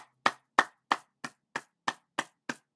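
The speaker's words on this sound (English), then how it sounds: "I'm clapping" Sharp, evenly spaced hand claps, about nine in a steady rhythm, ring out alone and close by at a baseball game.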